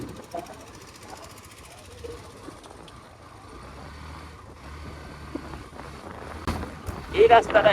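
A Hero 125cc motorcycle is ridden through Cox's Bazar, its engine a low, rapid thudding rumble mixed with wind buffeting the microphone, growing louder and rougher toward the end.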